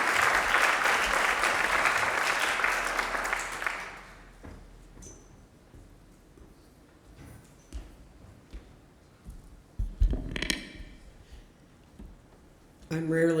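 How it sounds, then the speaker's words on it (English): An audience breaks into loud applause that lasts about four seconds and then fades, followed by quiet room sounds and a few scattered noises. "How about a round of applause for our panel?"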